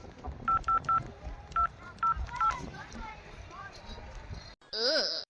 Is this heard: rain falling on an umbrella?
no